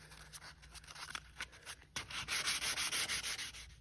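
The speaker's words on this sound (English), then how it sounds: "Starting with 220 grit, I then moved to 320 grit," Hand sanding of a marine bronze clip with fine-grit sandpaper, 220 then 320 grit: quick repeated rubbing strokes, close and fairly quiet, growing steadier and louder in the second half.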